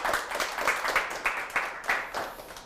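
Audience applause closing a lecture at a Korean talk-show event, a dense wash of many hands clapping with a few sharper bursts, steady and fairly close for the whole stretch.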